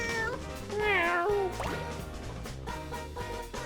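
A cartoonish cat from the video game Katamari Damacy gives two or three clear meows over bouncy in-game music, the first long and wavering, the others shorter.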